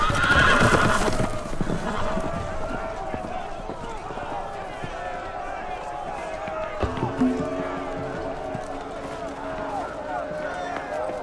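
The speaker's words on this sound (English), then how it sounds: "The horses! They're loose!" Horses in the Telltale Game of Thrones video game whinny loudly and hooves clatter in a rush, with voices shouting over the commotion.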